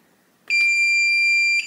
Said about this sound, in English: you're gonna hear a long beep and see a green flash here